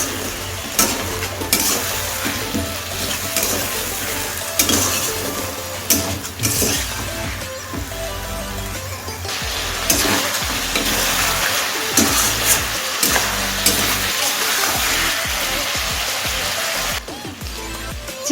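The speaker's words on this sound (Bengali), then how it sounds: "এবার গ্যাসের ফ্লেমটা মিডিয়াম টু লোতে রেখে পেঁয়াজের সাথে চিকেনটাকে ভালোভাবে একটু কষে নেব।" Chicken and onion sautéing in a pan over a medium-low gas flame, giving a steady close sizzle broken by repeated scraping and stirring strokes of a spatula throughout.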